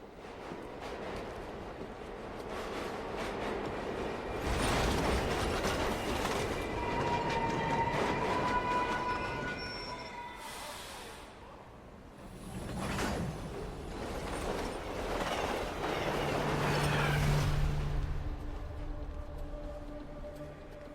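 A train rumbles past with a steady roar that swells and fades twice, with rattling carriages and faint metallic squeals over the running noise, and no voices.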